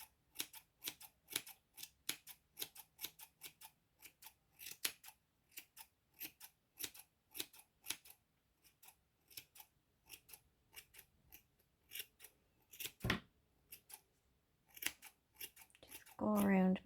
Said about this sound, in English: I'm going to take a scissors and just